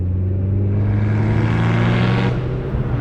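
A Mitsubishi Lancer Evolution V engine revs steadily and loudly up close in a rev-matched downshift, the strong rumbling note climbing and then easing off near the end, with no talking.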